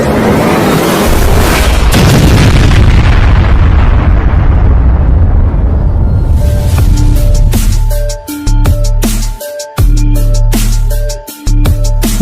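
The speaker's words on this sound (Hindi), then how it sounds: "बाबा मिलकर पूरे के पूरे महल को ही उड़ाने वाले हैं।" A cartoon palace is blown up in a loud, sustained explosion with a roaring rumble that slowly decays, followed by sharp bursts and pops cutting in and out.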